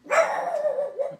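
A single close, loud dog bark drawn out into a short yelping howl, heard alone indoors in a woodcarving workshop setting.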